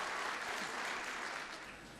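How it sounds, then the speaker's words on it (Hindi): Audience at a mushaira in Qatar applauding to welcome a poet, a steady dense wash of clapping throughout that eases slightly toward the end. "जोरदार तालियों से इस्तकबाल होना चाहिए"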